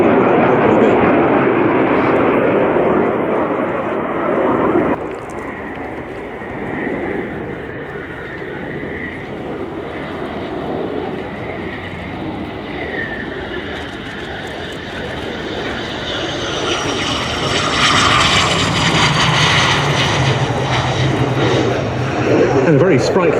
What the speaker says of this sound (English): a very sprightly return, having gone around from its initial approach by the Mirage 2000-5F of the French Air and Space Force